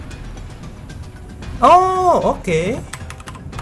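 Keys clatter on a mechanical keyboard with Cherry switches on a newly built gaming PC, scattered close clicks before and after a brief spoken remark.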